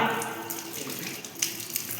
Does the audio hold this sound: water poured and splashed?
yes